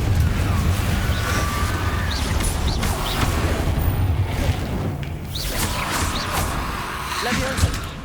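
A Confringo fire spell bursts in Hogwarts Legacy combat, dense whooshing blasts and crackling impacts packed into a loud, busy game mix with a character's voice.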